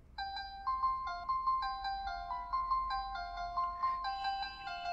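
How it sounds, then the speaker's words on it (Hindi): Redmi Note 5 Pro dial pad in piano mode, a string of clear, bright piano-like tones in a short melodic sequence, played steadily and alone at moderate volume. "पियानो मोड पर लेके आते ही आपका जो आप डायल पैड है पियानो की तरफ प्ले करना शुरू करेगा"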